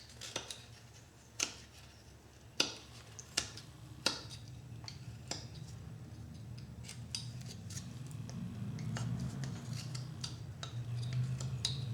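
Scissors snip material in a series of sharp, close clicks spaced a second or so apart, fairly quiet over a low background hum.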